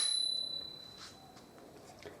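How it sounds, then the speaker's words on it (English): A nail-driven striker hits a small metal bell once, giving a bright ringing ping that decays over about a second, followed by faint scattered handling noises. "This nail strikes the striker, which hits the bell."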